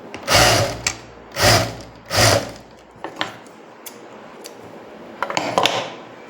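Three loud, close whirring runs of a sewing machine stitching banian knit cloth come in quick succession, followed by quieter clicks and handling noises and a short final burst of activity.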